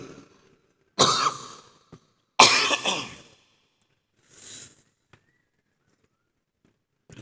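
Coughing from a person at a youth conference: two harsh, loud bursts close together, then a fainter third cough, with quiet pauses between and no talk.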